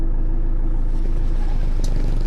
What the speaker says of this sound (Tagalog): May parating na trike.